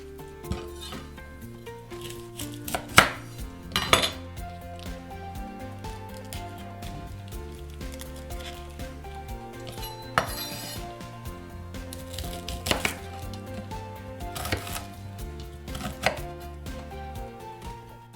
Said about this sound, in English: So we finished cutting our Brussels sprouts